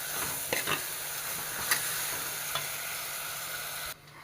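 Grated coconut sautéing in a pan for a roasted-coconut chicken curry, giving a soft, even, close sizzle with a few stirring scrapes, cutting off near the end.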